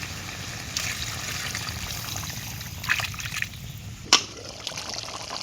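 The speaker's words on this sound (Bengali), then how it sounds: "এখন পানি দিয়ে দিব।" Water poured into a pan of pigeon meat and papaya curry makes a soft trickle over low kitchen background noise, with a brief louder splash near the end.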